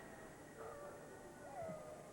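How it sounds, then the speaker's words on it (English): Dogs howling outside at night, heard as faint, distant wavering howls: a couple of drawn-out rising cries over a steady background hum, with no talking. "And don't those dogs ever shut up?"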